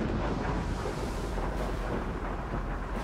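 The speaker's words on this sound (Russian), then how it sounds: "Ночь заканчивается грозой." A night thunderstorm rumbles continuously, a dense, heavy roar that fills the whole clip at a steady level.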